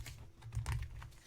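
A quick, soft riffle of Dreams of Gaia tarot cards being shuffled, a brief flurry of light flicking clicks, close and quiet.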